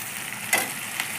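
Chicken pieces dropped into a pan of fried spice masala, a steady sizzle with a brief louder hiss and stir as the meat goes in, a second smaller burst near the end.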